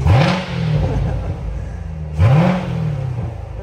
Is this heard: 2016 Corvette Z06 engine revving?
yes